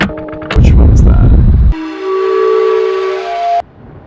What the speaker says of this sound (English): Oh, that's the train whistle.